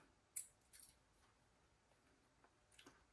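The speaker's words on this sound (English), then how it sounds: "Cut off the tag." Scissors snip through the tag end of fishing line after a knot is tied on a pompano rig, a sharp close click followed by a couple of fainter snips and small handling ticks.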